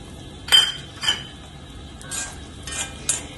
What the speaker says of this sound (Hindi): गोंद फ्राई करने के बाद मैं डाल रही हूँ पंपकिन सीड्स